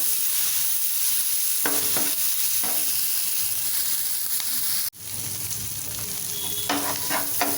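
Strips of sliced capsicum sautéing in a pan, a continuous close sizzle with scraping stirs of a spatula at intervals and a short break midway, no voices.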